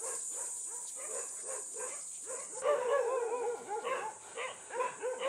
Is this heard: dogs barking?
yes